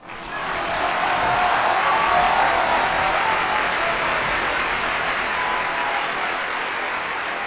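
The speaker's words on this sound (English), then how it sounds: "Can we send you off with some applause?" Sustained applause for a caller on a live show swells in within the first half second, then holds as a steady, dense wash of clapping for several seconds before easing slightly, with no talk over it.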